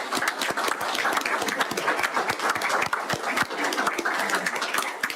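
Audience members at a Bulloch County Board of Commissioners meeting clap together, a modest crowd whose individual claps stand out as a quick, uneven patter, close and fairly loud throughout.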